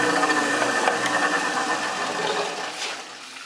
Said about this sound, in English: First thing I want to do is turn on the lathe